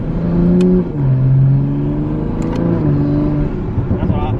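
A tuned Mk5 Toyota Supra sports car revs hard close by, its pitch climbing and then dropping sharply as it shifts gears in quick succession.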